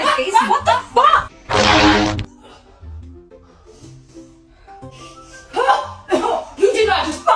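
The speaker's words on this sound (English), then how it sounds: "You did not just fucking fart in there" A person farting indoors: one loud, raspy burst about a second and a half long stands out between bouts of nearby talking and laughter.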